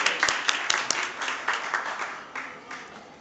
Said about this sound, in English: Please, everyone, give a big round of applause for Professor Kotnala